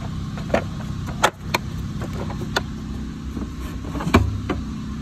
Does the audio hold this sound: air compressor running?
yes